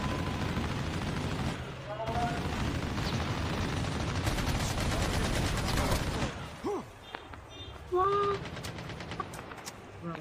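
Gunfire in the mobile shooter Call of Duty Mobile, a dense stretch of rapid, loud shots for about six seconds that then thins into scattered bursts with game effects, mixed with the player talking.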